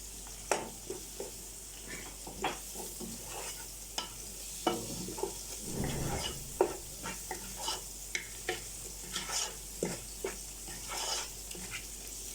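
Meat seasoned with garlic powder, onion powder and dried coriander sizzles steadily in a pot, with repeated clear scrapes and knocks of a spoon stirring it at a regular pace, close and alone without talk.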